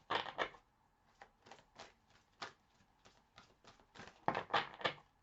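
Cards being shuffled during a tarot-style reading, heard as a series of quick papery riffles and slaps in short bursts, fairly close and quiet, with no talking over them.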